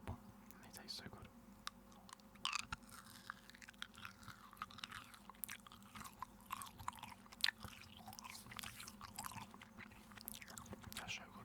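Extra Refreshers tropical flavour chewy sweets being chewed close to the mic, with soft wet crunches and mouth sounds over a steady low hum, quiet throughout.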